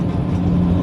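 A truck engine runs close by, a loud, steady low rumble with a droning hum that holds for the whole moment without any voices.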